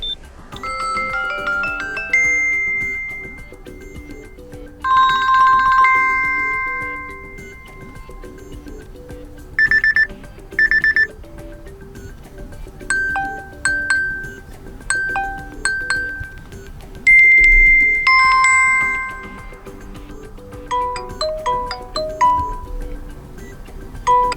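Ringtones from a Samsung Galaxy Watch 5 play one after another: short chiming melodies and beeping tone sequences separated by brief pauses, clear and close with no talking.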